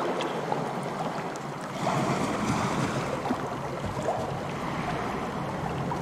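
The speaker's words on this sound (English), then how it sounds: "It creates a really realistic water sound." Layered water sound effects for a tabletop game scene aboard a ship, a steady broadband swoosh of waves and sloshing water with wind, continuous and moderately loud throughout with no talking.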